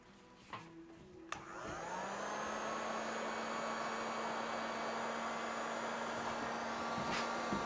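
A TDAGRO 1800W variable-temperature heat gun runs on its low setting, melting heat shrink onto a wire: a few clicks, then a steady, fairly quiet fan whoosh with a faint hum that holds unchanged.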